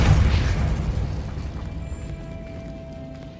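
Repulso spell blast in Hogwarts Legacy, a loud booming burst at the start that rumbles and fades away over a few seconds, with no talk.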